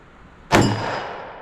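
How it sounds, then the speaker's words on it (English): A Hornady .357 Magnum bullet strikes a steel gong: one sharp metallic clang that rings out and slowly decays, heard alone at a moderate distance. "I'm gonna shoot at the gong there and see where we hit."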